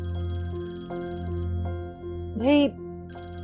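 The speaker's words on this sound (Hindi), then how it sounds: "ये उन्हीं के घर से फोन होगा, तो उठा लो" A telephone rings inside a family home during a tense drama scene, a steady electronic tone sounding throughout while a voice briefly speaks over it.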